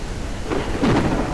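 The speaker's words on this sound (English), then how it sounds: "you will have this beautiful sound" Steady rain pours as part of a thunderstorm ambience in an Unreal Engine 5.3 map near a cabin, with a low thunder rumble swelling partway through, continuous and without talk.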